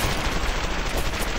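Sustained machine gun fire in BioShock, a dense, continuous rattle of rapid shots at close range filling the whole moment with no talk.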